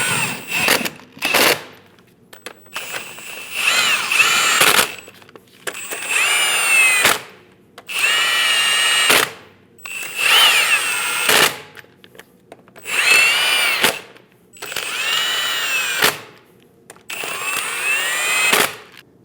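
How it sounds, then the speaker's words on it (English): A power tool snugging down the lug nuts on a 2001-2006 Chevrolet Silverado 2500 HD: close, loud whirring bursts repeat in a steady on-off rhythm, about nine in a row, each ending with short clicks and brief pauses between. "Snug down all the lug nuts."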